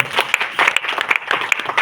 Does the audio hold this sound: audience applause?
yes